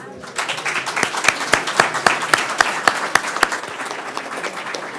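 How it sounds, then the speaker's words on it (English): A crowd breaks into applause, a dense patter of many hands clapping that swells quickly and then holds steady. "Just give the students a round of applause again."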